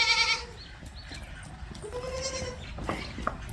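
Goats bleat on a goat farm at Chakwal in the morning, with a loud call at the start and further nearby bleats over a busy outdoor background.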